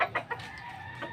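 A two-and-a-half-month-old young chicken clucking, a few short close clucks at the start over a quiet farmyard background.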